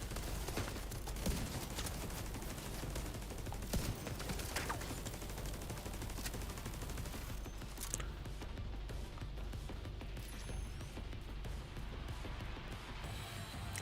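Gunfire in The Division 2: rapid, dense bursts of shots crack continuously across the whole stretch, with scattered impacts and a sharp crash near the end, and no talking over it.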